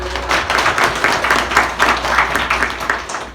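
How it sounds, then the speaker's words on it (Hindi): An audience of students at a career guidance session gives a burst of applause, a steady, dense clatter of many hands clapping at moderate loudness. "एक जोरदार तालियां बजाओ"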